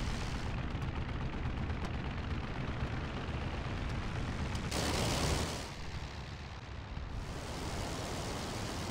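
Machine gun fire from a Sopwith Pup in the flight combat game Rise of Flight, heard as a loud dense burst of rapid gunfire over constant engine roar and wind, swelling briefly and then continuing at a lower level.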